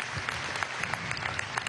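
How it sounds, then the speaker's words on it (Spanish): Crowd applause at a political party meeting for primary candidates in Venezuela, a sustained dense patter of many hands clapping at steady moderate volume, with no voices on top. "Gracias, un aplauso"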